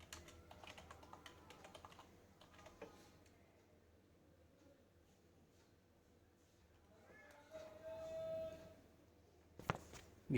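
Keys clatter on a computer keyboard while code is written, scattered light taps in quick bursts, fairly faint, with a pause in the middle and a few louder clicks near the end.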